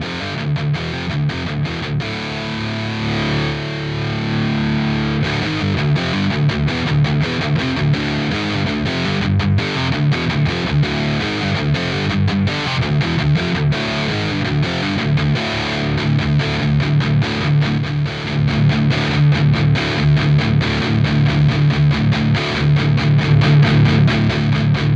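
Electric guitar played through a REVV G20 tube amp with a Quad Cortex, a continuous distorted tone with strummed chords that stays loud and steady throughout, with no talking.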